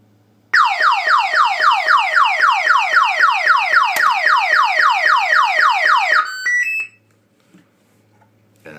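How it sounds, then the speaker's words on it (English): A loud electronic alarm from a Menvier M800 intruder alarm system wails in rapid repeating sweeps for several seconds, then breaks into a few high beeps and cuts off. "so if I open that it will cause a full alarm"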